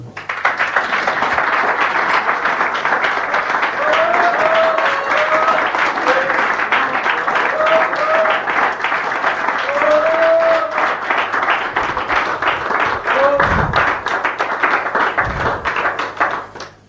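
An audience claps steadily after a folk song, a dense, sustained round of applause that tapers off near the end, with a few voices speaking over it.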